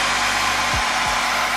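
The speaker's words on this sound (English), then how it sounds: "Should I just use my blow dryer?" Blow dryer held close while drying a watercolor page in a journal, a loud steady whooshing hum of air with a constant motor tone, running alone without any voices.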